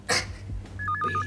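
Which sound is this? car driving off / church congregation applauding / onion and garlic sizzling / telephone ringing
telephone ringing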